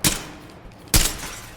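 Gunfire in the tactical shooter game Ready or Not: two loud, sharp shots about a second apart, the second one heavier, with no talking.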